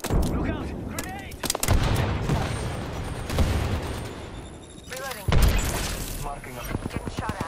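Video game gunfire in an online shooter match: repeated loud close shots and bursts with explosive booms, overlapping with game voice callouts throughout.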